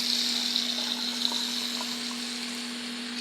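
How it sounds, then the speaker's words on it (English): Tap water running through a batch of cut potato chips for homemade fries, a soft, steady hiss of flowing water with faint small splashes, close and continuous. "Let the water run through the chips."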